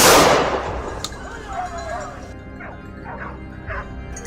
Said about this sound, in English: The moment we heard barking, we knew the prey had been cornered.